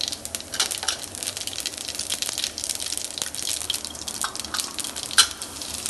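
Cumin seeds sizzling in hot ghee, a steady close crackle and hiss with fine popping throughout, one sharper pop near the end.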